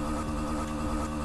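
Honda Sahara 300 with its original exhaust roars steadily in the Moto Wheelie 3D game, a continuous buzzing mid-pitched engine drone held at constant revs, loud and close with no voices.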